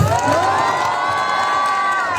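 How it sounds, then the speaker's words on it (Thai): A large crowd cheers and whoops loudly and continuously at the finish of a swim across the river from Laos to Thailand, with shrill voices rising over a dense roar. "เสียงปรบมือให้ท่านอนุทินหน่อยครับพี่น้องครับ"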